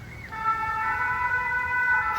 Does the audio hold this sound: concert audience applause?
no